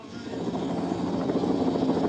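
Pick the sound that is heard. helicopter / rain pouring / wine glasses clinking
helicopter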